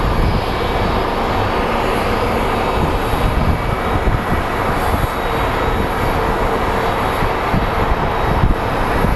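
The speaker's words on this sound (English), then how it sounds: "We will be getting Alaska Airlines 700 coming in from Seattle." An Alaska Airlines jet arriving at Phoenix Sky Harbor airport roars steadily with a broad engine rumble and high whine, loud and sustained throughout without voices.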